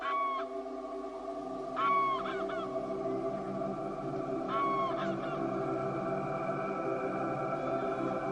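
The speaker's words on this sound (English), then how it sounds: "Grey-lag geese fly in for breakfast to search the rich marshland areas." Greylag geese honk in a marshland at morning, a few loud nasal calls in separate bursts over a steady low background hum of the wetland.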